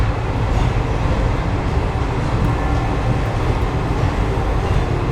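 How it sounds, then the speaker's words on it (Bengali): A train pulls out of platform 4 at Rameswaram station with a loud, continuous low rumble of rolling wagons that stays steady and close throughout, with no talking. "ট্রেন 4 নম্বর প্ল্যাটফর্ম থেকে ছেড়ে দিয়েছে,"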